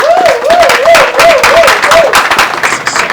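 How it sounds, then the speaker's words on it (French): A crowd at a public gathering applauds loudly and close, with dense clapping and a rhythmic, warbling high cry repeating over it before it fades into general crowd noise. "On peut l'applaudir s'il vous plaît."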